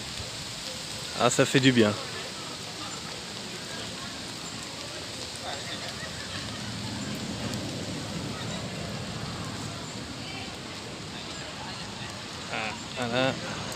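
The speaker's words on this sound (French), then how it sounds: "Oh là là, il pleut fort" Heavy rain pours steadily through a storm in Mauritius, a dense, even hiss that runs the whole time, with a voice cutting in briefly near the start and again at the end.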